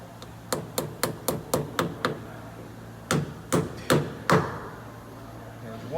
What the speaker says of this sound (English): You can put a weight in there, crunch the hammer a little bit, and notice it opens it up.